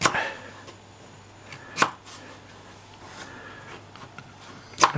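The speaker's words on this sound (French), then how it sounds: "je coupe des petits morceaux parce que je vais pas mixer" A knife chopping watermelon into small pieces on a cutting board, giving a few sharp, close, isolated knocks spaced seconds apart over a quiet kitchen background.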